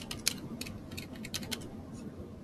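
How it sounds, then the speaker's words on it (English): Typing on a computer keyboard while signing up a user for a Jenkins and Selenium test setup: quiet, irregular clusters of key clicks over a low room hum, with no voices. "I'll type in my name, and I'll type in my password."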